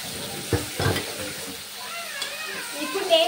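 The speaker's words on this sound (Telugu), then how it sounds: "2 మినిట్స్ అయితే ఇలా వేసుకున్న ఆయిల్ లో ఫ్రై చేసుకున్నాం" Mushrooms frying in oil in a pan for a mushroom masala curry, a soft steady sizzle with a few stirring scrapes near the start, close and moderately quiet.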